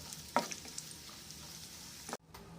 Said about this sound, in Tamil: முந்திரி பருப்பு கொஞ்சம் வறுத்துக்கிட்டு கிறிஸ்மஸ் பழம் போடுறோம் காஞ்ச திராட்சை இதையும் நல்லா வறுத்து எடுத்து வச்சுக்கிறோம்